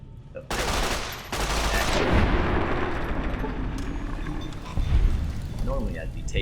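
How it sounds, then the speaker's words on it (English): Sniper rifle shots in the Fallout New Vegas game, loud booming reports with a rumbling wash of battle noise throughout, a sharp burst near the start and another heavy blast late on, with voice chatter mixed in. "taking sniper rifle shots directly to the head here"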